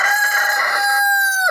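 A pet rooster crows once, a close, loud, sustained cock-a-doodle-doo with a steady strained tone that cuts off abruptly at the end, with no other sounds around it.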